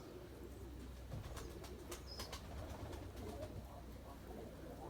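Soft cooing of Erzurum white pigeons drifts in over a steady low background hum, faint and somewhat distant, with occasional brief chirps.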